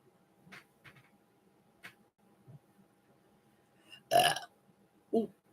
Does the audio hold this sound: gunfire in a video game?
no